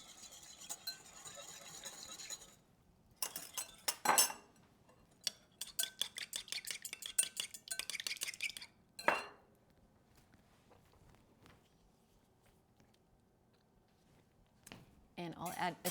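Salad being tossed lightly in a bowl, with clusters of quick utensil clinks and scrapes in two bursts separated by near silence, close and fairly quiet.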